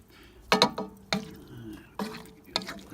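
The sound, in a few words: stirring sausages in sauce on a ceramic grill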